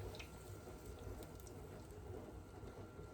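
Melted butter is poured gently into a container, giving a faint, steady liquid trickle that runs for about three seconds without pause, alone and quiet against a low background.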